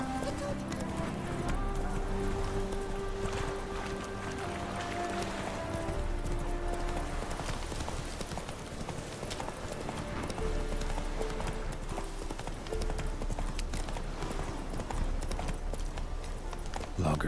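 Steady clip-clop of a horse's hooves in the Odysseus video game runs continuously at a brisk, even pace, with game music and ambience underneath and speech mixed in.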